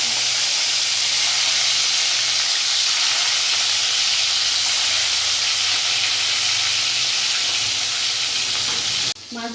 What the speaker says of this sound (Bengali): আমার তেল গরম হয়ে এসছে, এবার আমি মাছগুলো ছেড়ে দেবো। মাছটা কিন্তু আমি শ্যালো ফ্রাই করব, যেহেতু এটা ইলিশ মাছ।